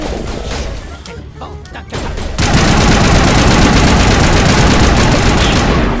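A sustained burst of rapid gunfire erupts in a Mass Effect firefight, loud and dense after a few scattered shots and crashes, running continuously for several seconds with no talk over it.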